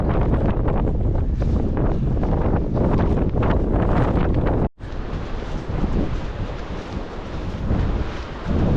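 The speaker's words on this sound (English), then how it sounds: "Back in the really windy bits" Strong coastal wind buffets the microphone in a loud, continuous roar during a long run along the coast, cutting out for an instant midway before resuming just as heavily.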